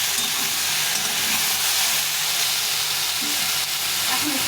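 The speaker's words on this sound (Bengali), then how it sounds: "সবজিগুলো ঢাকা চাপা দিয়ে একটু সেদ্ধ করে ভেজে নিলাম। এখন এর মধ্যে মশলা দিয়ে দিলাম।" Vegetables fry with added spices in a pan, a steady dense sizzle and hiss that holds at even loudness throughout with no talking.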